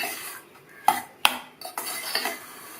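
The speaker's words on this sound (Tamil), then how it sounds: "சேர்த்துட்டு நல்லா மிக்ஸ் பண்ணி விட்டுறலாம்" A spoon mixes wheat rava puttu with coconut, ghee and cashews in a metal vessel, giving a few sharp clinks and soft scraping sounds up close.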